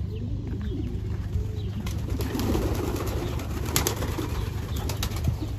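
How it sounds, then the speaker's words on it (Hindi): Soft cooing from kept pigeons murmurs repeatedly beneath background hum, with occasional faint clicks and rustles nearby, on a farm in Saudi Arabia. "यहाँ कबूतर भी पाल के रखे हैं।"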